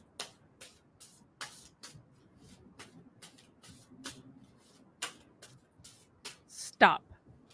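Cards are shuffled softly in a series of faint, irregular flicks and riffles, while people talk quietly around them.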